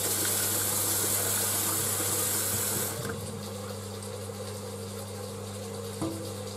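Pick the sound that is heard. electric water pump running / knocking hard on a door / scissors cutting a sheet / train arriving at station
electric water pump running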